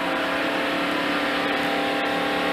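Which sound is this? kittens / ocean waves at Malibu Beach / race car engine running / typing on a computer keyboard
race car engine running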